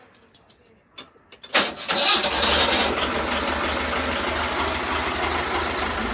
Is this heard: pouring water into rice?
no